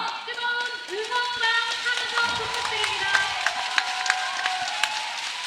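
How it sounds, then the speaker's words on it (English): Spectators at an Asia Rugby Sevens Series 2024 match in South Korea between China and Korea raise a sustained, swelling roar with scattered claps and shouts, moderately distant, under a commentator's voice. "Crowd lifting behind their side here"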